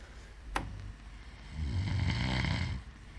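A person snoring while asleep in a mountain hut: one long, rough snore swelling in the middle of the short stretch, preceded by a sharp click, fairly close and with no talking.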